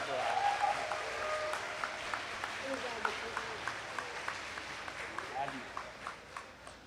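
An audience at a panel on liberty and democracy in Brazil claps steadily throughout, with sharp individual claps standing out over a continuous wash of applause and some murmuring voices.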